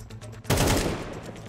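Gunfire in Counter-Strike 2 sounds as one loud, close burst of shots that rattles briefly and then decays, heard alone without talk.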